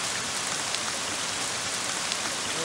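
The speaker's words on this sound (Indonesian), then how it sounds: "masih aja hujan di sini." Steady, dense rain falls in a video game, a constant close hiss of drops spattering on surfaces with no talk over it.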